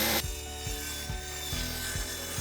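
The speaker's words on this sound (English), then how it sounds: "cut along that as a guide for the circular saw" Circular saw cutting a plywood sheet along a strip of wood screwed on as a guide, while building a DIY trolley; a loud, steady motor whine with rhythmic pulsing bursts runs throughout, with no voices.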